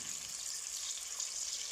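Peppers fry in hot oil in a pan, giving a steady, quiet, even sizzle with no breaks and no voices.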